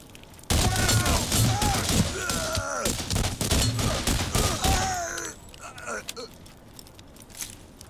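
Rapid bursts of video game gunfire from Borderlands crackle and thud in a dense fusillade for several seconds, then thin out to scattered shots, with agitated voices talking over the action.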